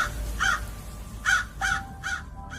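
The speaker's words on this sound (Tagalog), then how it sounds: "Umalis kayo mga pesteng uwak kayo!" Crows caw in a run of about five harsh calls, spaced irregularly, fairly close, with a low rumble underneath and no voices.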